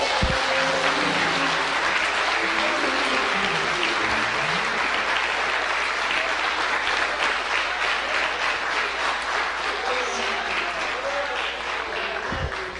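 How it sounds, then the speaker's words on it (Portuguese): A church congregation applauds at length, dense, sustained clapping filling the space for over twelve seconds, with voices calling out beneath it. "Vamos aplaudir o Senhor."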